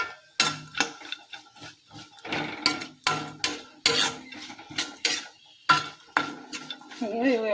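A metal spoon scrapes and clinks rhythmically against a pan as poppy seeds are stirred into a frying sheer khurma mixture, sharp and close in uneven strokes, with faint sizzling between them.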